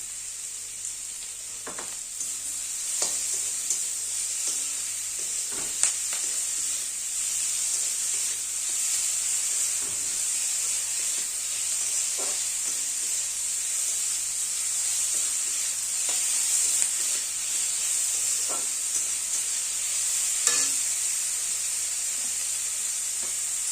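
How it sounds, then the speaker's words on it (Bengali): Onions fry in a pan with a soft, constant sizzle and hiss, broken by occasional clinks and scrapes as a spatula stirs them; the cooking sound stays moderate and close throughout. "পেঁয়াজটা ভাজা ভাজা হয়ে এসছে"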